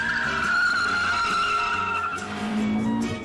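Tires on Richard's GTI squeal in a long sustained skid around a test track, a loud high screech over a steady engine drone that fades slightly toward the end, with no talking.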